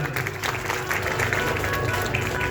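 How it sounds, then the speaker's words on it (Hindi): Loud, dense applause from an audience gathered for a devotional storytelling session, a steady wash of clapping with some crowd murmur throughout. "बजाओ ताली जोरदार"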